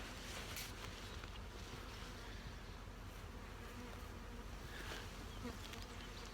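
A dense swarm of honey bees from a damaged, agitated colony buzzes steadily, a constant droning hum with occasional louder passes near the microphone.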